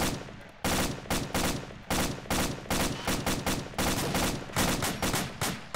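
Rapid gunfire from a tactical military shooter game cracks out in loud, repeated bursts, shot after shot in an uneven rhythm with only brief gaps, close and dominant throughout.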